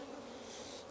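Honeybees at an opened beekeeper's hive give off a dense, continuous buzz, an even close drone with no break and no voices.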